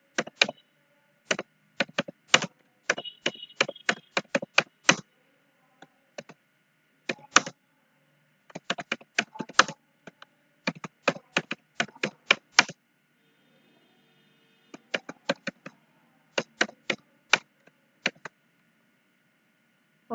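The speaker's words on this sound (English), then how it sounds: "Then you have to type here something." A computer keyboard is typed on in quick, crisp bursts of keystrokes, separated by short pauses, close and clear in a quiet room.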